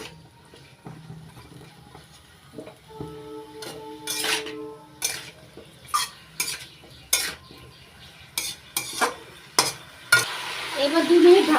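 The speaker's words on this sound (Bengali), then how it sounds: "1 চামচ লবণ দিয়ে পুঁই শাকের সঙ্গে নাড়াচাড়া করে মিশিয়ে নিচ্ছি" Malabar spinach being stirred with a spoonful of salt in a pan: a string of sharp scraping, clattering strokes of utensil on metal over a soft sizzle, irregular and close, louder toward the end.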